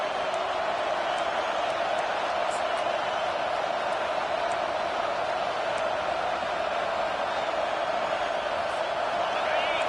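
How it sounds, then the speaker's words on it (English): A home crowd at an American football game during a third-down defensive stand keeps up a steady, dense roar of cheering throughout. "Here comes this home crowd as the defense tries to get off the field on third down."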